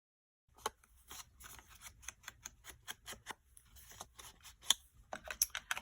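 Scissors snip through paper in a quiet room, a steady run of short, crisp cuts that speeds up toward the end, close and alone with no talking.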